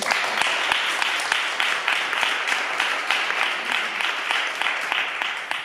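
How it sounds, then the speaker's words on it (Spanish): A lecture audience gives warm applause to welcome a speaker: steady, moderately close clapping from a medium-sized crowd, with a few sharper individual claps standing out, continuing without pause and without any voices. "un gran aplauso para Rosa."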